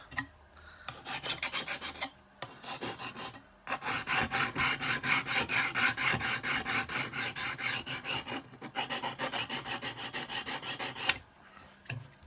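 A hand file rasps along the edges of a hard RC car body in repeated quick strokes. The bursts of rhythmic scraping are close and clear, broken by short pauses.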